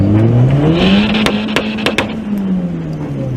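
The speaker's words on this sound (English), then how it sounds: "I figured I'd give you guys a little first person view of that wastegate" Turbocharged Honda Prelude engine heard from inside the car, loud and close, pitch climbing and then easing off, with a few sharp clicks and pops from the turbo wastegate over the steady roar.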